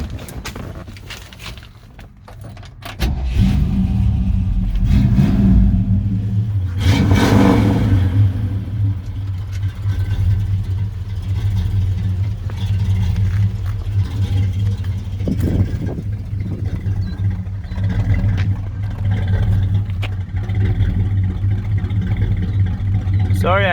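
A 1965 Ford Falcon Ranchero engine starts and settles into a steady, rumbling idle close by, with a brief rev midway and continuous low mechanical drone throughout.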